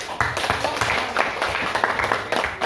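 A small group of students claps in uneven bursts, quick light hand claps filling a classroom, with a voice mixed in.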